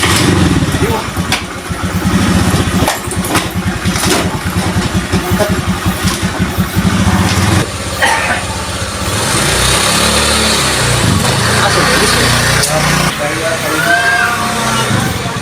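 A motorcycle engine runs loud and close, idling with a throbbing rumble then revving, while people talk over it.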